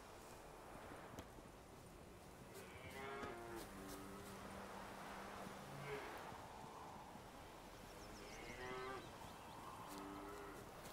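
A cow in The Witcher 3 moos in long, low calls, with a second moo later, alongside faint hoof clops and footsteps in quiet farmland ambience.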